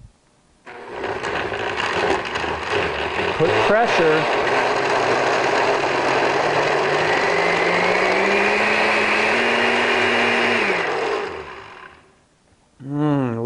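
A blender runs on low to purée a green soup, starting with a sudden loud motor whir that holds steady and strained for about ten seconds, its pitch sliding as the load changes, then winds down; a brief voice speaks early.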